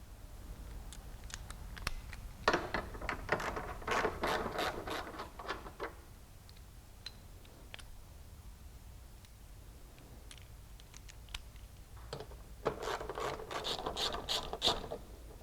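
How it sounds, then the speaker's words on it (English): A ratchet loosening the 12mm and 10mm headlight bolts on a 2011-or-later Hyundai Elantra, close up, in two bursts of rapid clicking separated by a quieter pause with a few scattered clicks. "we'll be removing the 12mm bolt from up top and the two 10mm bolts from the bottom"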